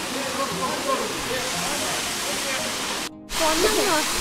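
Manyavsky waterfall in the Carpathians, on a warm day with crowds of visitors, gives a steady broadband rush of falling water. The rush runs throughout, is briefly cut near the end, and voices talk over it.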